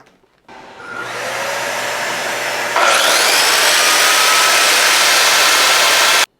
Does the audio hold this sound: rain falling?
no